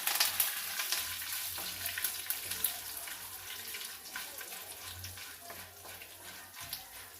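Mustard seeds, cumin, curry leaves and a broken dried red chili tempering in hot oil give a faint, steady sizzle with soft crackles and small pops in a quiet kitchen.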